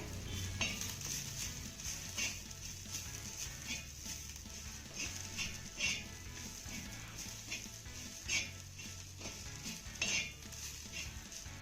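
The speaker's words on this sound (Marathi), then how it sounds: "आता हे सर्व साहित्य आपल्याला पुन्हा एक ते दोन मिनिटं चांगलं परतून घ्यायचं आहे" Spiced ingredients are sautéed in a pan for a minute or two, with a quiet, continuous sizzle and regular light scrapes and taps of a spoon. The strokes land every couple of seconds, close by but soft.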